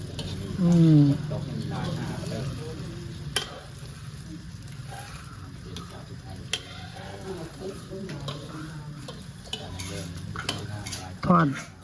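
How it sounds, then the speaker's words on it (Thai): Eggs frying in a pan sizzle at a steady, moderate level throughout. People talk quietly over the sizzle, and a few brief clinks of a utensil can be heard. "น้องโดนันทอดไข่กินเรื่อยอยู่บ่"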